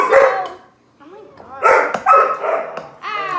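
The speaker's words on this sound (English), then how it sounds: "Our little puppies are wrestling with each other." Puppies bark, yip and whimper in short, loud bursts while wrestling with each other indoors. A person talks over and between the barks.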